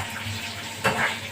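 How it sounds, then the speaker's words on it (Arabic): A spoon stirs a bissara mixture frying in a pan, a soft sizzle under a brief close scrape of the stir, quiet and short. "نقلبها كويس. هنقلب كده البصاره كده"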